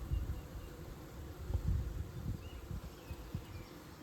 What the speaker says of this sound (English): Those are the nurse bees.